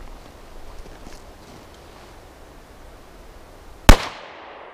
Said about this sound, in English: Now with the FN57, I'm going to use this FN SS197 SR ammunition, which is a 40 grain projectile that's like a ballistic tip.